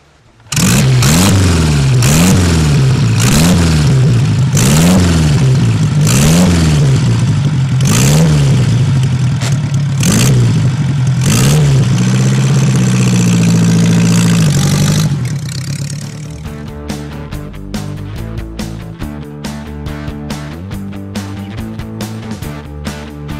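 A vintage Ace motorcycle engine with a 3-speed transmission revs up and down repeatedly in loud rhythmic surges, then settles into a steady mechanical rumble up close.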